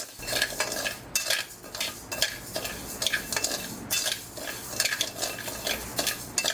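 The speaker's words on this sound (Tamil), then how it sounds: "பச்சரிசி இரநூறு கிராமு அதை வறுத்துக்கிறோங்க நல்லா ஒரு பொன்னிறமாக வறுத்துட்டிங்க" Raw rice dry-roasted in a pan, a rapid rhythmic scraping and rustle of grains stirred with a spoon against metal, close and continuous with no talk.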